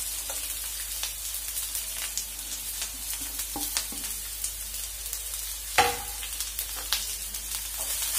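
Green chillies and finely chopped onion frying in a pan for cabbage and chana dal palya, a steady close sizzle with occasional stirring scrapes and one louder clatter near the end, no voices.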